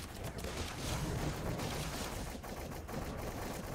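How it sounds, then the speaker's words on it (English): Rapid, continuous gunfire from enemy prospectors in the video game The Cycle rattles in a dense, steady barrage at moderate distance, with no clear gaps between shots. "they're shooting down at us"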